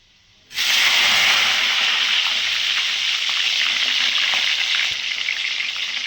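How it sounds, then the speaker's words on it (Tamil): Eggplant pieces drop into hot oil and burst into a loud, bright sizzle that starts abruptly after a quiet moment, then keeps frying steadily with crackles, fading slightly toward the end. "தண்ணியிலேருந்து கத்திரிக்காய் எடுத்து போடும்போது எண்ணெய்க்குள்ளே போடும்போது தெரிக்கும்."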